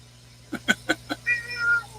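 A happy cat meows several short times in a quick run, close and clear, ending in a longer drawn-out meow in a quiet indoor room.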